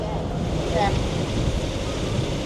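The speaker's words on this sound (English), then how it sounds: "So whereas we were fighting against the wind initially, we're now letting the wind assist us" Wind blows against a narrowboat out on the water, a steady rushing buffet of broadband noise across the microphone, close and fairly even.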